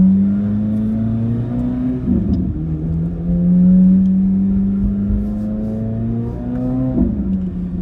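A Corvette C8 Z06 engine hums steadily while driving at night, rising in pitch through two gear pulls with brief shifts between them, heard alone from inside the cabin.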